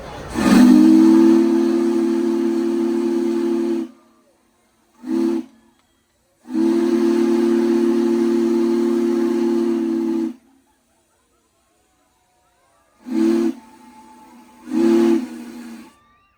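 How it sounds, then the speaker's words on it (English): Loud blasts of the whistle of Union Pacific Big Boy steam locomotive 4014 in Feather River Canyon: two long, hissing wails separated by short toots, then a couple more brief blasts. "Here's the steam crew blowing the whistle for the crowd."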